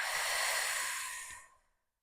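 A single deep diaphragmatic breath during a breathing exercise, a long airy exhale heard up close that fades out into silence, with no talk.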